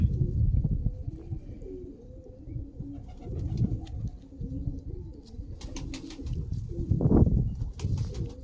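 A Dubai Teddy breed pigeon coos close by in a series of soft, low, rolling calls, with a brief sharper flutter or rustle near the end, and no talking.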